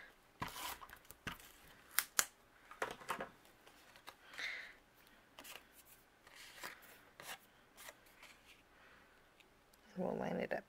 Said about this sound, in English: I'm going to use my tape runner for this